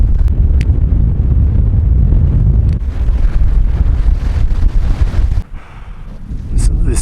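Strong cold wind roars across a steep snowy mountain traverse near San Luis, buffeting the microphone in loud continuous gusts that briefly ease before surging again.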